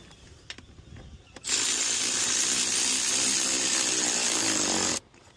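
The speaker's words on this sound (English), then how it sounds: "Tighten this bolt." Power tool driving a bolt tight on a 2007 Toyota Tacoma during fuel injector replacement, a loud steady whirring burst of about three and a half seconds after a few quiet clicks, then stopping abruptly.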